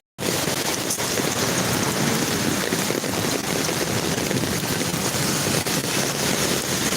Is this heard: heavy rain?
yes